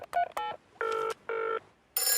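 A cartoon telephone as a call is placed, several short dial beeps followed by two longer, even ring tones with a pause between, then the start of another tone, clean and close.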